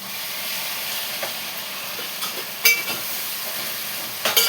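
Tomatoes frying with onions in a pan: a steady soft sizzle and hiss, broken by a few sharper crackles and pops, with no voices.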